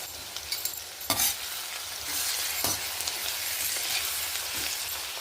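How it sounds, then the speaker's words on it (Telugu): Onions with turmeric and salt frying in a pan, giving a steady bright sizzle with a few scraping stirs and knocks of the spoon near the start, loud and close with no voices. "ఉల్లిపాయలన్నీ వేగిపోయాయండి"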